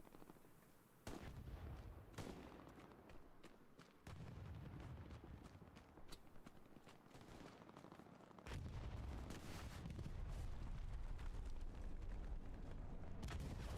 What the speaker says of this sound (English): Let's see whether that satchel actually does any damage to anyone, or whether it just goes kaboom